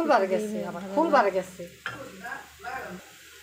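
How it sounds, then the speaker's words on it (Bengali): Pitha cakes fry in hot oil while being stirred and turned in the pan, a close, continuous sizzle with bursts of bubbling and clatter that eases toward the end. "তেল গরম হয়ে গেছে, পিঠা দিয়ে দিয়েছি। এখন পিঠাগুলো সুন্দর করে নেড়ে চেড়ে ভেজে নেব।"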